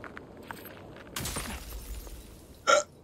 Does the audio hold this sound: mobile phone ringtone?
no